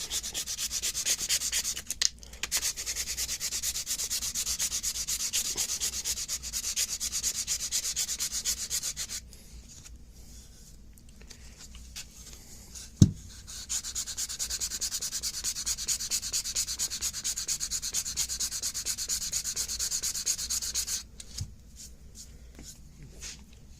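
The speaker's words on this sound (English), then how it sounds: "get your sanding block and hit it on the top" Rhythmic strokes of a sanding block rub against an old wooden gunstock up close, in long steady runs with a short pause in the middle and a single knock.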